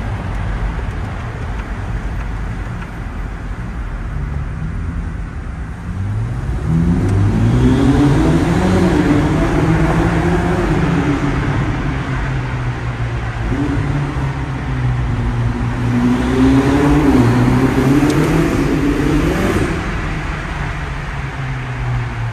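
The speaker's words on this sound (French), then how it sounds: "on entend bien le V8 résonner" A Ferrari SF90 Stradale's V8 booms and echoes off the walls of a tunnel, surging through two rising revs over a steady road rumble.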